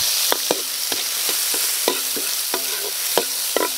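Garlic, onion and tomato sautéing together in a pan, a steady bright sizzle with a spatula scraping and tapping the pan at a loose, regular rhythm, close and without talking.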